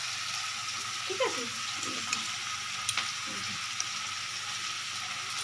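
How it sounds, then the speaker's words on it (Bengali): Onions fry in a pan with a mixed spice paste stirred in, a steady soft sizzle throughout with a few scraping stirs; a voice speaks briefly near the start. "পেঁয়াজটা যখন একটু হালকা ভাজা হয়ে যাবে তখন ওই গুঁড়ো যে ওই মশলাটা গুলিয়ে রেখেছি"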